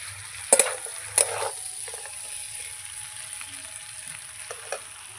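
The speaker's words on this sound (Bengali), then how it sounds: "মাংস আর সবজি আমি ভালো করে মিশিয়ে কষাতে থাকবো কিছুক্ষণ" Meat and vegetables are stir-fried together in a pan, a soft, low sizzle close by with a few sharp clinks of a utensil against the pan near the start, and no voices.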